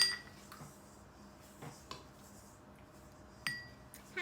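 A spoon clinks against a bowl while peanut butter cookie dough made with sugar and eggs is mixed, giving a few sparse, faint taps and scrapes spread over a quiet stretch.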